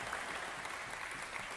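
Crowd applause rings out at a tennis quarterfinal after a winning reverse shot ends a point, steady and dense clapping filling the whole moment without a break.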